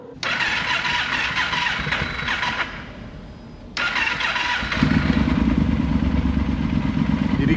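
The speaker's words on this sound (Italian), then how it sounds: "Poi pian pianino sentite il motore aumenta di giri perché la centralina si setta con l'altezza" An engine running at 2,640 m altitude hums steadily, cuts out briefly, then starts again and rises in revs, the idle climbing as its control unit adjusts to the thin air, heard close and fairly loud.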